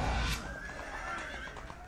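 A horse whinnies in a TV drama scene, a short, faint neigh rising above a noisy, muffled background, followed by soft hoof clops.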